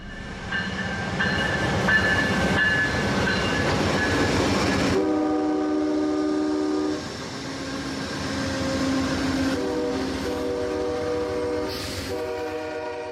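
A passenger train rumbles forward along a station platform with a loud, sustained multi-tone horn blast, then continues clattering along with further horn tones, close and steady throughout.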